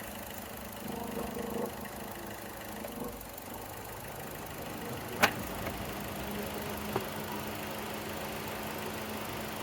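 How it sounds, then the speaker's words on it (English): A Chevy Cruze engine with a bad PCV valve idles steadily with a low, even rumble, a faint whistle running through it and a couple of small clicks. "so we got the engine running"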